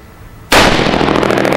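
A single loud, close gunshot from a .308 rifle fitted with a muzzle brake: one sharp crack after brief quiet, followed by a sustained ringing blast and reverberation.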